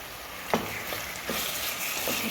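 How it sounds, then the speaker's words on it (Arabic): Cuttlefish fry in a pan with garlic and onion, giving a steady close sizzling hiss broken by a few sharper pops and stirring clicks, with no talking. "نزيد السيبيا تاعي نقليها مليح"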